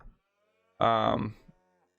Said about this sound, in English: There's already some cows.